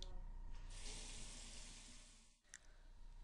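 Running tap water streams steadily into a sink as a broad, continuous hiss, near and fairly loud, with a brief dip and splash near the end.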